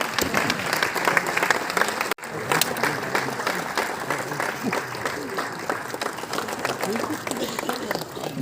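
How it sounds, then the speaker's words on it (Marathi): Sustained, loud applause from an audience at a lifetime achievement award ceremony honouring veteran actor Mohan Joshi. Dense clapping runs throughout, broken only by one brief cut-out. "जोरदार टाळ्या वाजत राहू द्या."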